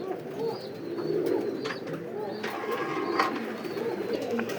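Several Muffet Helmet fancy pigeons sitting on eggs in a loft coo softly and steadily, with faint chirps from other birds in the background and some low murmuring throughout.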